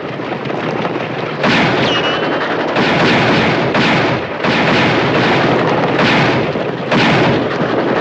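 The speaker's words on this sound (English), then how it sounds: "Aim for her passenger. If you can't hit the passenger, put your bullets into her boiler." Gunfire rings out during a western movie chase: loud, repeated blasts about once a second over a constant roaring, rumbling din, with no talk.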